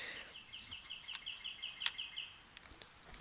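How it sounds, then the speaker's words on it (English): Birds singing outdoors, heard as a faint, distant, high repeating trill with a few scattered chirps over quiet background hiss. "I can really hear the birds."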